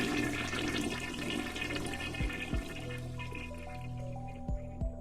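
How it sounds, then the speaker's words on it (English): Water from a running shower hisses and splashes steadily at moderate volume, with a few sharp low knocks and a faint tonal hum in the background, and no voices. "I jump at the sound of a running shower."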